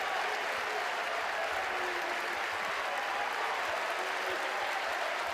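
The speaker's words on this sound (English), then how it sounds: "Crowd to its feet" A college baseball crowd in Athens, at a Georgia versus Mississippi State game, applauds and cheers loudly and steadily, a dense, unbroken wash of clapping that lasts throughout.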